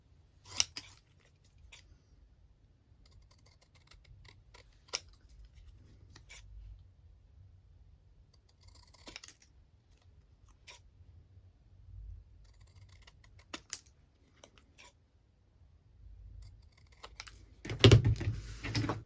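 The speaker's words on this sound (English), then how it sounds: "Might just do my scissors with this one." Scissors cutting paper cardstock snip repeatedly in sparse, crisp clicks, some in quick pairs with pauses between, close up, ending with a louder rustle.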